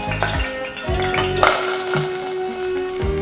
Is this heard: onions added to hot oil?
yes